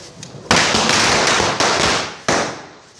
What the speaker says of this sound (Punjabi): ਉਹ ਦੇਖ ਮੁਰਗਾ ਬੰਬ ਆ ਗਿਆ